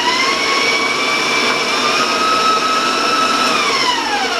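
An electric mixer beats cookie dough for oatmeal chocolate cookies, a loud close steady whine with a motor pitch that drifts slightly and holds throughout, no speech.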